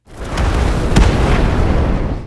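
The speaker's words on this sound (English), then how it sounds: "81 hears the explosion and runs back" A loud, deep boom rumbles with a sharp crack near its middle, a single sustained blast that fills the space and then cuts off.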